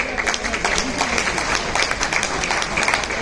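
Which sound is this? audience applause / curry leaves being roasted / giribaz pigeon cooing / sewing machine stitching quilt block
audience applause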